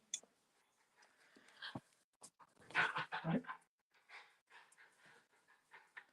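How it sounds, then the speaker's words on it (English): A dog panting close by with breathy, uneven huffs and occasional soft whimpers, fairly quiet overall, with a stronger burst of panting near the middle and scattered faint sounds around it. "that is my dog"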